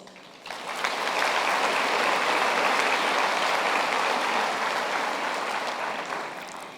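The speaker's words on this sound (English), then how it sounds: "they too deserve a round of applause" Sustained audience applause at a class of 2019 graduation ceremony, honouring lecturers and promoters. It swells quickly after a brief pause, then holds as a dense, even wash of many hands, easing slightly near the end.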